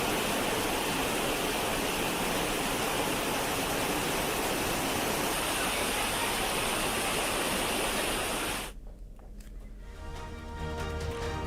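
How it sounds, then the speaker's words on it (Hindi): A flooded Sirvel Mahadev waterfall in Khargone, swollen by heavy monsoon rain, roars as a loud, steady torrent that drops away abruptly near the end. "सिरवेल महादेव झरना उफान पर है"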